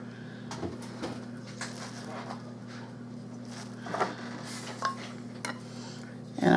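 Potato salad is stirred in a bowl, producing soft scraping and a few light clinks of a utensil against the dish, faint and close, with no talking.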